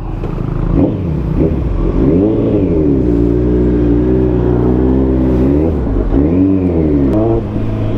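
A Kawasaki ZX-14R motorcycle rides through traffic, its engine revving up and easing off in repeated smooth swells, loud and close, with no talk.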